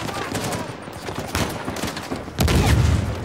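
Gunfire in the video game Uncharted 4, a dense volley of shots rattling continuously and swelling louder near the end, with no talking.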